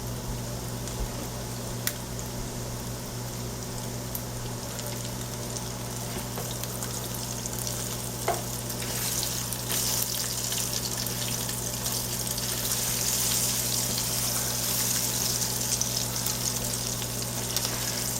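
Fried macaroni and cheese patties frying in a pan, a loud, steady sizzle with bubbling oil and occasional sharp pops, sustained and close with a low constant hum beneath.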